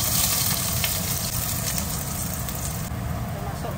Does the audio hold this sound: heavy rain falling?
no